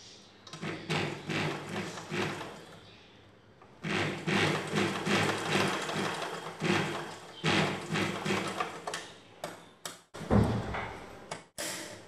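A sewing machine stitches the edge of a back-neck blouse with bell trim, running in several steady bursts with short pauses and a few clunks near the end, close by and with no speech.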